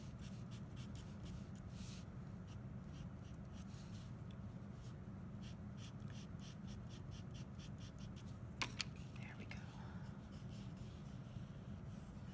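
Charcoal stick scratching and rubbing across paper while layering shading into a fabric fold, a steady close, soft scraping texture with one sharper tap near the end.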